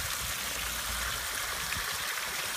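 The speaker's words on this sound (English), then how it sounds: "And as the water trickles down" Backyard waterfall with water trickling and splashing in a steady, even wash of sound, close and continuous with no voices.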